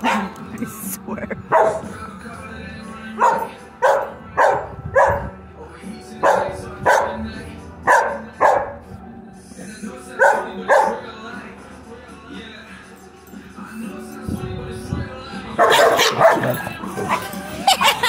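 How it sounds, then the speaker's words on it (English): A neighbor's dog barks repeatedly at a puppy in a steady string of loud, close barks, with whimpering and a voice joining toward the end. "My neighbor's dog is being mean to Jupiter, and he's crying"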